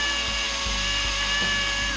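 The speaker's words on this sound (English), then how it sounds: "We're gonna drill all the way through this thing." A power drill whines continuously as it bores through a homemade catfish float, with a steady high motor tone, close and loud.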